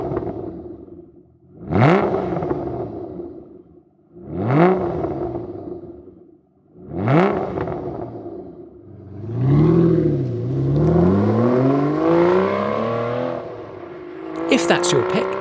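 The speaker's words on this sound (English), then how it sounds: "Right, time for the DBS to do its drive off." Aston Martin DBS engine revs in three loud bursts, each rising and falling, then pulls away with a sustained climbing roar through the gears, followed by a sharp higher-pitched rev at the end.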